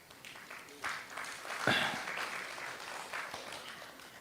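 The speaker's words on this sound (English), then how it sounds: "See, some wives are clapping, this is not nice." An audience at a live Save Soil event in Riyadh breaks into scattered, moderately distant clapping that swells briefly and lingers, with some voices murmuring underneath.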